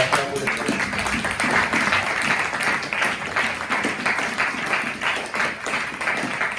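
A church congregation applauds during a worship service, a dense, sustained wash of clapping and cheering that fills the space at steady loudness without pause.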